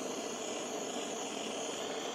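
A propane torch plays over the fuel injector area of a small Chinese diesel engine during a cold start, giving a steady, even broadband roar with a hissing top that holds constant and close throughout, with no talking.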